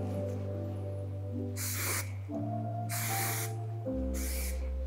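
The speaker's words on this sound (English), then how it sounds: "A little bit of hairspray." Three short bursts of hairspray misted onto a styled 60s-inspired bombshell hairdo, each bright hiss lasting about a second, heard over a steady low music bed with no talking.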